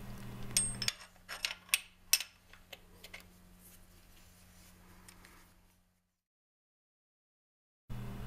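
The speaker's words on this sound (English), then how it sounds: "I'm using a 1/4 inch socket wrench, so I don't develop strong forces on the valves and the pistons" A 1/4 inch socket wrench ratchets in quick, sharp clicks while working on the valves of a Powerstroke 6.0 engine, close up for a few seconds before a faint hum trails off into silence.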